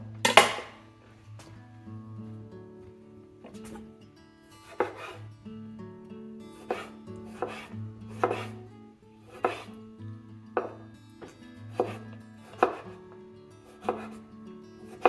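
A good lightweight kitchen knife chops a small Roma tomato on a cutting board, with sharp distinct thunks at an uneven pace, close and clear against a quiet background, and no talking.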